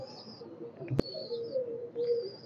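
Teddy pigeons of KTM and Oman bloodline coo softly nearby, low murmuring calls over faint chirps and a sharp click in the middle.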